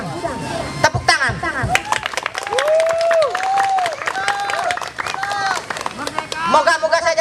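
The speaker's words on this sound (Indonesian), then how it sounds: "Tepuk tangan." An audience at an Indonesian Independence Day speech gives a round of applause, scattered claps and cheers mixed with lively crowd voices close by.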